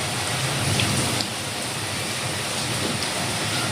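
Steady rain pours down in a constant, dense hiss of drops hitting surfaces, unbroken from start to finish, with no voices.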